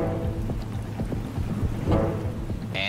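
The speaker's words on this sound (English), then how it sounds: "During our ascent, a storm blows in." Rain and wind roar steadily during a mountain thunderstorm in Yellowstone, with low rumbling thunder and gusty buffeting across the whole stretch and no voices.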